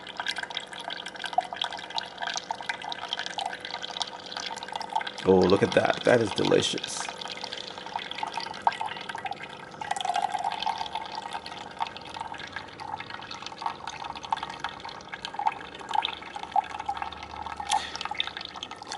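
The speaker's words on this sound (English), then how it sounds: "It's pouring into the cup." A Keurig coffee maker streams coffee into a cup with a continuous thin trickle and splash, briefly surging louder, while a person talks over it.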